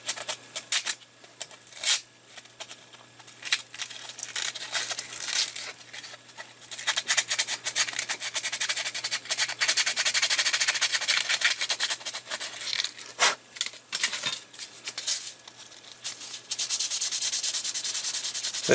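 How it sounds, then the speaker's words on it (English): Folded 500-grit sandpaper rubbed back and forth by hand in a groove while assembling a filament loader, a close, steady scratchy rasping that runs continuously with brief pauses between strokes. "Fold it down tight and just work it back and forth in that groove a few times."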